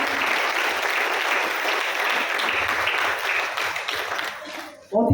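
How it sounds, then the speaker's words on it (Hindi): Audience applause after a health talk, a sustained burst of clapping from a crowd that fades near the end before a voice comes in. "जोरदार तालियां होनी चाहिए।"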